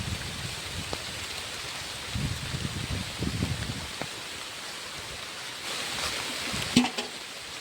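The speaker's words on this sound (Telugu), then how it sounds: "వర్షం తగ్గుతుందేమో అనుకుంటే ఇంకా పెరుగుతుంది." Heavy rain pours steadily over a cashew orchard, a dense even hiss of drops on leaves and ground that swells slightly near the end with a few sharper splats.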